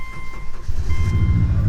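An old car with nearly 275,000 miles, running on a jump from a battery charger, cranks with a loud rhythmic low chugging and then catches, its engine rumbling close by.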